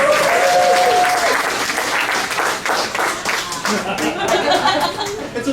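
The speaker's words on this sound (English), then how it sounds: "Give a round of applause." Loud audience applause at a stage show, a dense sustained burst of clapping with some laughter and chatter mixed in, easing slightly before picking up again.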